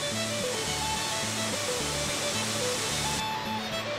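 A waterfall in Highlands, North Carolina rushes in a steady, dense roar that fills the whole clip, with a soft rhythmic low tone pulsing underneath.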